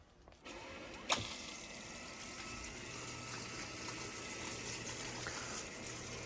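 A Milwaukee 12V water pump converted to run on a Makita battery, switching on with a click and then running as a steady, faint motor hum while pumping water, alone throughout.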